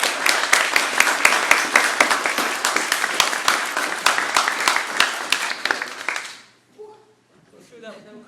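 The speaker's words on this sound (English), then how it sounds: "So I'm going to go for another round of applause for Pat." Close, lively applause from an audience, sharp individual claps standing out within a full patter for over six seconds, then stopping abruptly before a voice begins speaking.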